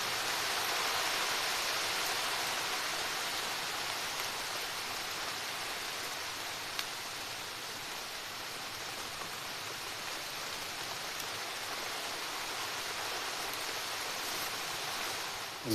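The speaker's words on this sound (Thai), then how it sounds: "ฝนตกแล้ว" Rain pours down in a dense, even hiss that stays constant throughout, with no voices.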